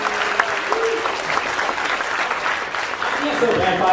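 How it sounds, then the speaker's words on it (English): Audience applause at the end of a high school humanities symposium session, a steady spread of clapping with voices and cheers mixed in throughout. "a round of applause for our two"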